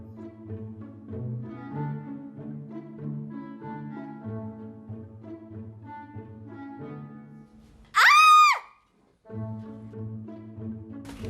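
A woman's sudden high, loud scream at a cockroach in a Hindi film scene, a single sharp burst lasting about a second that cuts through low background music.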